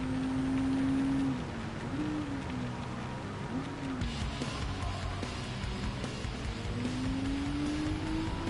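A race car in Gran Turismo 7 driving school hums with a sustained engine tone that rises and dips as the revs shift, close and moderately loud, with faint background noise.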